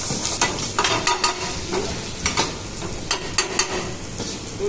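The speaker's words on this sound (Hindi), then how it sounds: "तो हम इसको ऐसे इस तरीके से मिक्स कर देंगे" Masala with turmeric, chaat masala and green coriander being mixed: broadband scraping and stirring with a series of sharp clatters and taps against the bowl, fairly close, over a steady background hiss, no talk.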